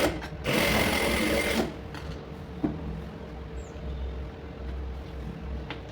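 A sewing machine stitching the shoulder seam of a lined blouse runs in a loud, close whirring burst of about a second, then stops, leaving quiet handling sounds and faint background noise.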